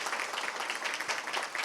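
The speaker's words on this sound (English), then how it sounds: "Please, a round of applause for all our teachers today." An audience at a school district Teacher of the Year program applauds for teachers, a soft, steady patter of many hands heard from a distance.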